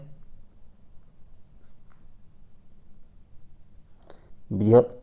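Numbers are written on a board in a quiet, rhythmic series of soft scratching strokes, followed at the end by a brief spoken voice.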